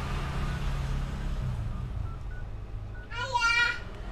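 A Xiaomi phone's keypad sounds a short run of dialing tones while mobile credit is checked, brief and mid-level near the end. A child can be heard talking over a low rumble of traffic.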